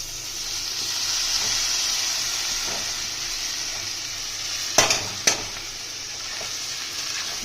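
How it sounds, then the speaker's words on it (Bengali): Rice and raisins frying in Mayapur ghee, a steady hiss of frying throughout with two sharp clicks of a utensil against the pan near the end. "ভালোভাবে ভেজে নাও। এটা ভালোভাবে ভেজে নিতে হবে।"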